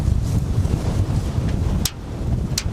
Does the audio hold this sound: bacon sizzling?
no